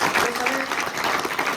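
An audience claps at a career and youth day motivational talk in Kariri-Todabhim: a brief, dense burst of applause, fairly close and steady, with speech mixed in.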